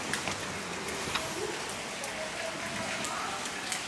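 Heavy rain falls steadily outdoors in a Spanish port setting, a dense continuous hiss of drops on surfaces with scattered louder splashes, and no talking over it.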